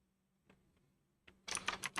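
Short bursts of keystrokes on a computer keyboard during a game development session: a couple of faint isolated taps, then a quick, louder flurry of clicking typing at close range, with no voices.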